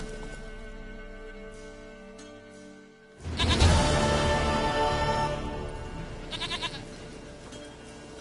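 A goat in The Witcher 3 video game bleats loudly after a quiet stretch of ambient game sound, with a second shorter bleat following a few seconds later.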